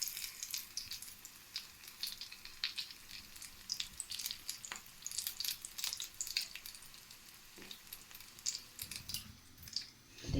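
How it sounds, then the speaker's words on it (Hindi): Potato cheese sticks fry in hot oil with a soft, continuous crackle and sizzle under scattered pops and light clinks of kitchen utensils. "चलें जी, इसे भी इसी तरह ऑयल में डाल दूंगी मैं।"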